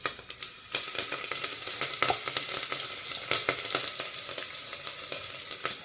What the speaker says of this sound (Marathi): आता हे आपल्याला 2 मिनिटांसाठी छान फ्राय करून घ्यायचं आहे